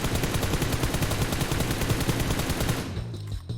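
Rapid automatic gunfire in PUBG Mobile, a loud continuous burst of evenly spaced shots that cuts off near the end.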